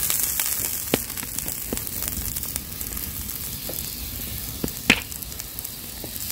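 Vegetables sizzle steadily on a backyard cookout grill, a continuous close hiss broken by a few sharp pops and crackles, with no talk.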